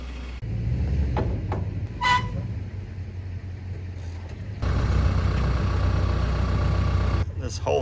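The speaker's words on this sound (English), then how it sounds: "So luckily I still have the forks on the TYM tractor. We'll go lift it up with that" A TYM tractor's engine running steadily while its forks lift a load, a low continuous rumble that swells louder partway through, with scattered clanks and a voice talking intermittently over it.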